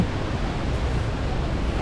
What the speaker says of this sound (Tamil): தண்ணி எவ்வளோ போய்கொண்டு பாருங்கள். தொடர்ந்து ஓடிக்கொண்டே இருக்குது தண்ணி.